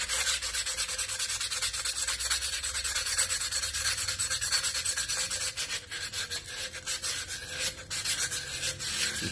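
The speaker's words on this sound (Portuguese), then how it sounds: "Vou pegar uma lixa." Sandpaper worked by hand along the freshly cut edge of a glass pane, a steady, close, continuous rasping rub with no pauses and no voices.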